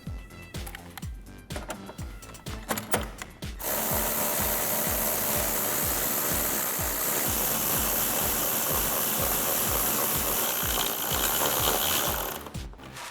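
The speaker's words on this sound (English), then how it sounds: "we'll take our 10mm socket to tighten all of these down" A 10mm socket on a ratchet wrench clicks in quick repeated strokes as it tightens headlight mounting bolts on a 2019-2022 RAM 1500, then a louder continuous whirring rasp takes over before the clicking resumes at the end.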